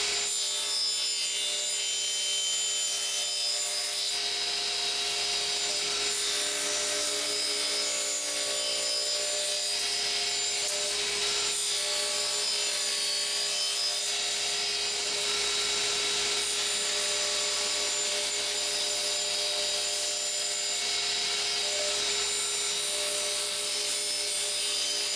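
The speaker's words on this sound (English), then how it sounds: "First up in the cross-cut test is the 120-tooth Concord blade." Radial arm saw fitted with a 120-tooth Concord blade cross-cutting Douglas fir, a loud continuous high-pitched whine and rasp of the spinning blade through the wood, steady for the whole stretch without talk.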